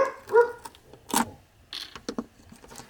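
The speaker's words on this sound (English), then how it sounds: "Do you hear my dog?" A dog barks a few times in short, separate bursts at middling distance, with quiet gaps and a bit of soft handling noise in between.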